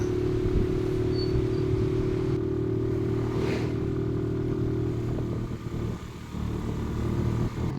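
A Suzuki Smash Legendary motorcycle labors up an uphill road near Tagaytay. The engine drones loud and steady with a constant low hum, and wind and road noise run through it, with a slight dip near the end.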